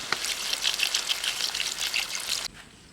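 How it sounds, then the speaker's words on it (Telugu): Water poured into a pot of village-style gongura chicken with turmeric and salt, a close continuous splashing trickle that stops abruptly near the end. "సరిపడా వాటర్ పోసుకుందాం"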